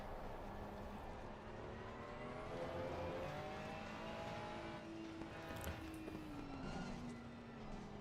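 A Ferrari 296 on an out lap in a sim racing game hums with a faint, moderately paced engine tone that rises and falls through gear changes, alongside other cars passing at a distance.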